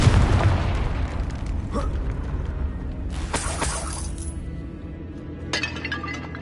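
A Confringo blast spell goes off in Hogwarts Legacy with a booming burst and glassy shattering debris, followed by scattered clinks and a second sharp crack, loud over a low game ambience.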